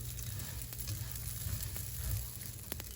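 Vermicelli frying and browning in a pot, a steady close sizzle with occasional soft scraping clicks from stirring, no voices.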